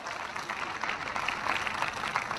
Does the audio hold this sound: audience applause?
yes